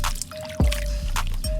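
Water is poured for cleaning toy metal cars, a close, brief splashing gush with a few drips and trickles and a thin steady tone running underneath.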